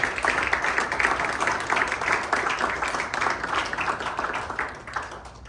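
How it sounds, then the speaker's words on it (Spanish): A church congregation applauds, dense continuous clapping from many hands that holds steady for several seconds before thinning slightly toward the end, filling the room without any voices over it. "Aplauso a la gloria de Dios"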